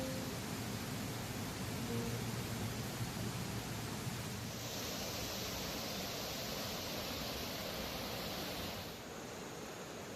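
Flowing water near a temple in Bao Loc, Vietnam, a steady broadband rush like a stream or small cascade, continuous and fairly close, with no talking.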